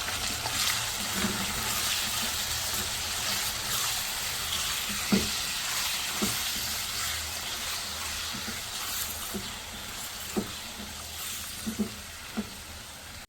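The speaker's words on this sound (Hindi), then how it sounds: "इसको हम फ्राई करेंगे इस ऑयल में इतना कि इसका कलर चेंज हो जाए" Boneless chicken pieces fry in hot oil in a karahi, a steady broadband sizzle with occasional soft stirring knocks and clinks scattered through, close and continuous with no talk.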